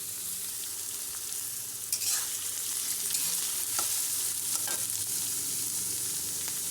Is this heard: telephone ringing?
no